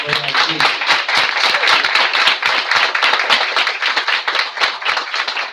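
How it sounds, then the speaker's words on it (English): An audience at a township committee meeting claps steadily for police promotions, a dense, loud round of applause that continues without a break from start to finish. "big round of applause for that"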